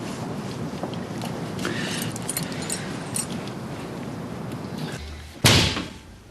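A door slams shut with a sharp, loud bang near the end, then rings off, following a stretch of rustling room noise.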